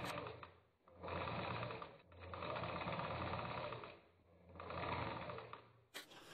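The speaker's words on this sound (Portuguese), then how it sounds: "Eu vou lá passar a costura e já volto para te mostrar." A sewing machine stitching a seam on a ruffled skirt runs in three long bursts of rapid, steady needle chatter, with brief pauses between them, close and alone.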